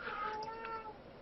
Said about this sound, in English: sorry for the cat sounds that you hear in the background